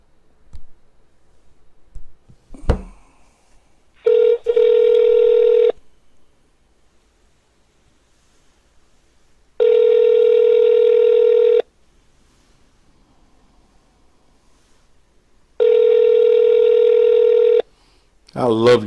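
Ringback tone of an outgoing phone call, three long steady buzzing rings each about two seconds with long gaps between, loud and clean, with brief talk and clicks before the first ring.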